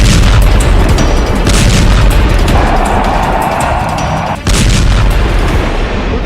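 Explosions from a B-2 bomber strike on Houthi targets come as loud, continuous rumbling booms and dense blasting that fill the whole stretch, with a brief sharp drop near the end.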